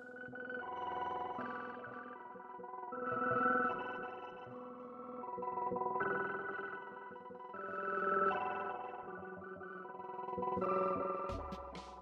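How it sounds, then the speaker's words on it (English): Piano processed through a granular fragments effect plugin plays a slow looping pattern, its notes smeared into shimmering, chorused textures that swell and recede in regular waves, ending with a bright glitchy burst. "the EFX fragments with the lapse piano is sounding like this"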